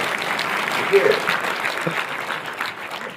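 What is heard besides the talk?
audience applause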